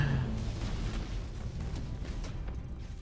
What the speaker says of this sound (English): Get over here for the big explosion.